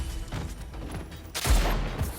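Gunfire in the Spider-Man 2 game on PS5, a close burst of shots and heavy booming blasts, loud and dense, with no talk over it.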